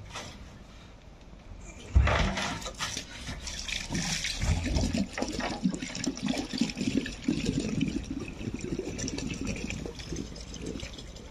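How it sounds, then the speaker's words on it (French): Water runs for a rinse inside a van in the cold, starting after a sharp knock and continuing as a steady, close splashing flow with small clatters mixed in. "On rince bien."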